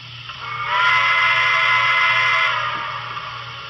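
A steady whistle from an N scale model PRR T1 Duplex 4-4-4-4 steam locomotive sounds for nearly two seconds, bright and breathy with a hiss on top, above a low engine rumble before fading.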